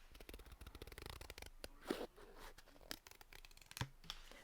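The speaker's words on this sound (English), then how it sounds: "So if you're hearing the scissors, here's the scissors sound." Scissors fussy-cutting paper for a scrapbooking layout, a close, rapid series of crisp snips and paper rustles with irregular rhythm and no talking.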